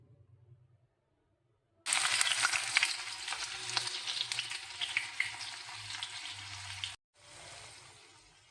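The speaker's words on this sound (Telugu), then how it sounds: "గోల్డెన్ బ్రౌన్ కలర్ వచ్చే వరకు వేపుకోవాలి." Bitter gourd, garlic and tomato fry in hot oil with a loud, dense sizzle that starts suddenly, runs steadily for about five seconds, cuts out briefly, then resumes softer.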